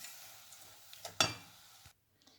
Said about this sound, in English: the sizzling is just from the pan being hot and the flame is actually not switched on